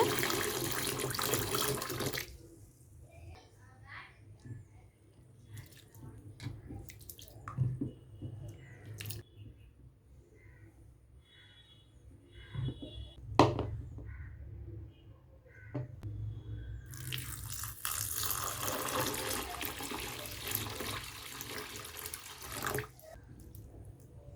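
Tap water runs steadily into a sink while lentils and moong dal are rinsed for corn adai batter, with a loud gushing start, a quieter stretch of drips and handling, then strong flow again.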